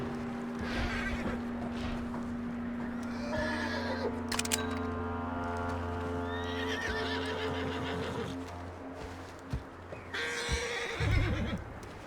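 A horse in Red Dead Redemption 2 whinnies loudly over a low steady hum, followed by hoof clops and snorting, with background game ambience.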